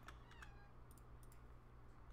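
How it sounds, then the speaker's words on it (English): A pet cat meows a few times in short, fairly clear calls near the start, then quieter, over a steady low background hum in a room. "She's just meowing at nothing."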